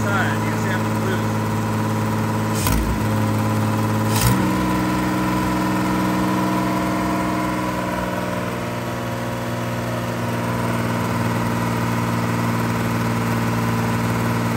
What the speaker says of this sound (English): So here is the engine running at idle now.